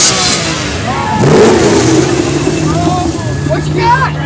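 A classic car's engine revs at the Metro Cruise car show in Grand Rapids, Michigan, in 2019, a loud mid-pitched roar rising and falling close by while a crowd shouts and talks over it.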